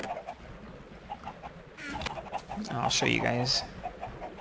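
Minecraft chickens cluck in short bursts from a pen in a survival world, growing louder and busier toward the end, mixed with someone talking briefly over the game's ambient sound.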